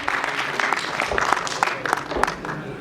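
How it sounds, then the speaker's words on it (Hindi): Claps ring out from the audience at a fashion and media awards ceremony, moderately loud and somewhat uneven, with individual hand strikes audible and a loud voice over a PA mixed in. "एक बार जोरदार ताली की गड़गड़ाहट हो जाए दोस्तों।"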